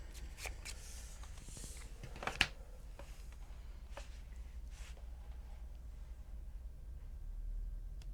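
Playing cards are shuffled during a tabletop game, heard as soft riffles and flicks with a few sharper snaps, quiet and close in an otherwise hushed room.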